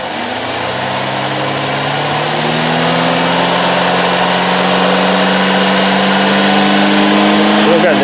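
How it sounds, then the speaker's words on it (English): A Cadillac SRX4 suffering from hesitation and power loss has its engine revved, a steady loud drone climbing gradually in pitch and strength over several seconds, close to the listener. "Rev it again."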